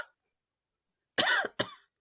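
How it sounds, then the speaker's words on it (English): A person coughs twice, one fuller harsh cough followed quickly by a shorter one, close and loud against silence, with a brief clipped sound at the very start. "Oh, you still have your cough"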